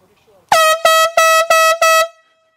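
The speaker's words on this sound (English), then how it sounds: "Put the air horn down, and then when it spasms, it won't blow the horn." An air horn blasts five times in quick succession, loud and close, each short burst cut off sharply, after a moment of quiet at the start.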